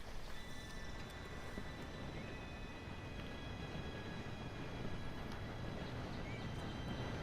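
A train approaches in the video game Red Dead Redemption 2, heard as a steady, distant rumble that holds evenly throughout at a fairly low level, with no talk.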